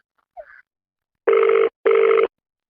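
Mobile phone ringback tone in a rural Awadhi-speaking setting: a faint brief blip, then two loud, even ringing bursts with a short gap between them, heard alone.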